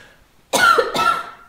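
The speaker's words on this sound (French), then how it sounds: "Il y a des gens qui toussent" Two sharp, close coughs from people in a room during a ouija session, the second following about half a second after the first, with near silence before them.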